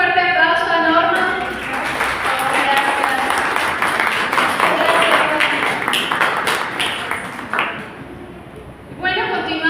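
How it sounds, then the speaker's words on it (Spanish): An audience claps for Norma at an evening of legends from southern Jalisco. Dense, steady applause rises after the first second and dies away near the end, with a voice speaking before and after it. "Damos un fuerte aplauso a Norma."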